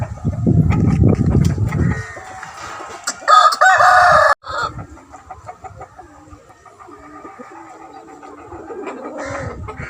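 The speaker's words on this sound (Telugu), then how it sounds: "మంచి స్పీడ్ కోడి, చాలా స్పీడ్ సార్." High-speed breed rooster for sale in Nellore, crowing loudly and nearby in one burst, with clucking and softer poultry sounds around it and a few faint voices.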